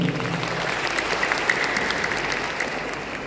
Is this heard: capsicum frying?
no